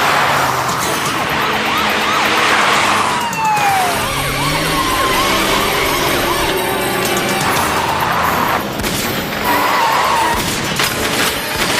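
Police vehicles driving past, with rising and falling siren wails, tyre skids and engine noise filling a loud, busy street scene throughout.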